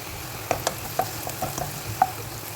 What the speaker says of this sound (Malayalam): ബാക്കി അരിഞ്ഞ് വെച്ചിരിക്കുന്ന ക്യാരറ്റ്, ക്യാപ്സിക്കം, ക്യാബേജ് ഇതെല്ലാമായിട്ട് നല്ലോണം മിക്സ് ചെയ്ത് കൊടുക്കാം.